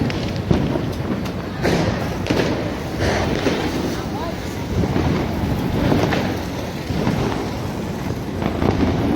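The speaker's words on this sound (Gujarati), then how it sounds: "કેટલા બધા ફટાકડા ફૂટે છે ને ફ્રેન્ડ" Diwali firecrackers burst all around a smoky roadside at night, a loose series of thumping bangs near and far over a continuous rumbling background, with people talking at times.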